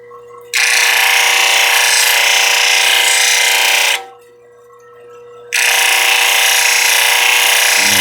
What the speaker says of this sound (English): let's hit this one with the 1200 grit